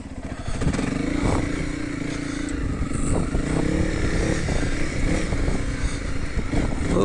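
A Honda CRF300L motorcycle engine putters steadily and close up on a slow ride around a track, with light clatter and thumps from the ride mixed in.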